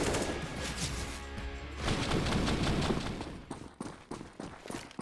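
AK rifle fire in a Counter-Strike esports match on the Overpass map, rapid crackling shots in bursts over busy game noise, turning into sharper separate reports and footsteps toward the end.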